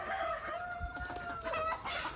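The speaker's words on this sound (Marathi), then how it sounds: "त्याच्यामध्ये गावठी म्हणून दिल्या होत्या त्या कोंबड्या आहेत" Desi free-range hens in a partitioned pen of a country poultry farm cluck and call continuously, with overlapping drawn-out tones and soft scratching close by.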